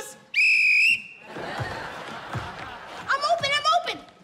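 A sharp, loud whistle blast rings out near the start, followed by crowd noise, voices and a second burst of trilling whistles near the end.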